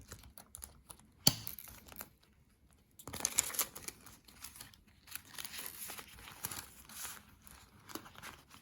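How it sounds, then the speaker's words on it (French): A paper envelope is picked up and handled close by, with short rustles and crinkles, one sharp snap and a louder crinkling stretch midway, all quiet and without talk. "Je récupère une enveloppe."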